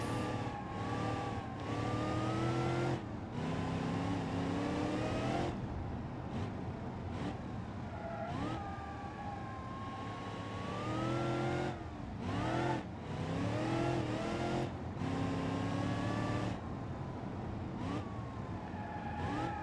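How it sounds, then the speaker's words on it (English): Simulated car engine in BeamNG.drive, a fast small-motor car driven hard on roads, revving up and down in repeated rising and falling sweeps, loud and continuous with no talk. "This is a fast car, especially for a small motor."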